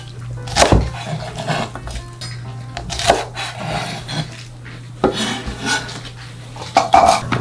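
A knife trims the stem ends of blanched gomchi greens on a cutting board, making a few sharp, separate knocks a couple of seconds apart with light clinks and handling noises between them. No one speaks.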